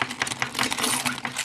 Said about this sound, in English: rub the keys on it.